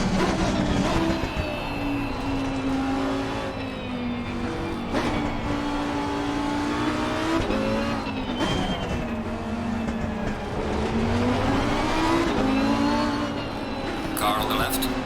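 Lamborghini race cars roar around Paul Ricard in the sim racing game Assetto Corsa, their engines droning and rising and falling in pitch as they shift gears, close and steady for the whole stretch, with commentary talking over them.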